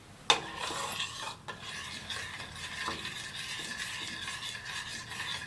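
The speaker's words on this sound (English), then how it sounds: "Just keep stirring, keep stirring, keep stirring." Spoon stirring white sauce for seafood in a pot on the stove, a steady soft scraping and swishing that runs continuously with a sharper clink near the start, close and moderately quiet with no talking.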